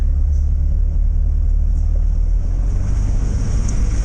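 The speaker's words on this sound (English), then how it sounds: "Any excuse to drive through mud." A four-wheel-drive vehicle plowing through mud, heard as a steady heavy engine rumble and churning low roar with wind buffeting the microphone, loud and continuous throughout.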